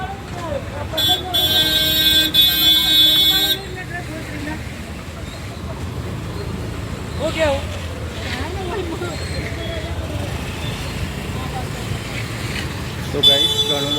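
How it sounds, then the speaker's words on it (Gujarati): Heavy road traffic near the Ambaji temple fills the scene with a constant engine rumble, a few car horns tooting, and a voice talking over the noise. "ટ્રાફિક તો જબરજસ્ત થઈ ગયું છે ગાઈસ."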